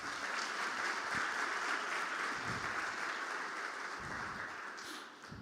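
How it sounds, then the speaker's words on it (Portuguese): A church congregation applauding, heard as a soft, distant, continuous patter of many hands that fades slightly toward the end, with no speech. "Quantos podem aplaudir o Senhor por esta área?"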